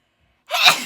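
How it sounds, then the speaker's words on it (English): A single sharp sneeze bursts out after a moment of silence, loud and close. "I have a sneeze."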